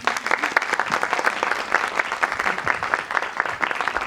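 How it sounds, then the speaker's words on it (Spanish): Audience applause at a panel event on film production, steady dense clapping throughout, fairly close and loud with no talk over it. "Un aplauso para Tania, por favor."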